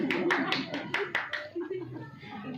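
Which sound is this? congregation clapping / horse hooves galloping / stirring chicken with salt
congregation clapping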